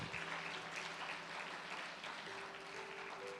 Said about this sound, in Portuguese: Dá uma salva de palmas ao nosso Deus